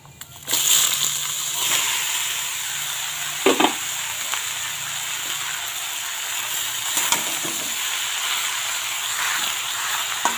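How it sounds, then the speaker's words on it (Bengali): Bottle gourd drops into hot oil tempered with radhuni and bay leaf, setting off a sudden loud sizzle that settles into a steady close hiss with a few stirring knocks. "এই যে এখন সব লাউগুলো এর মধ্যে ছেড়ে দেব।"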